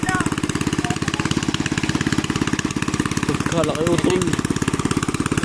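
A tractor engine runs steadily nearby in a flooded rice paddy, a loud even mechanical drone that continues throughout while people talk and shout over it.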